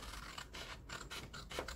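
Quiet, rhythmic snipping and rasping of scissors cutting through paper, several short strokes in quick succession, close and faint.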